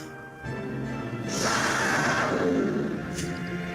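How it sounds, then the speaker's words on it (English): Cry of an Argon lizard in the PS2 game Dragon Quest VIII, a hoarse, whinny-like call that rises and swells over a few seconds and sits fairly faint over steady background sound. "Did you hear that? It's the cry of an Argon lizard."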